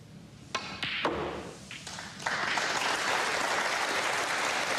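Spectators at an English Open snooker semi-final applaud, starting with a few scattered claps and swelling into sustained, dense clapping that fills the hall.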